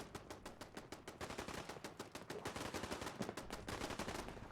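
Rapid automatic gunfire in the video game Fallout 4, a sustained string of sharp, evenly spaced shots with a few overlapping bursts, fairly faint and heard alone without speech.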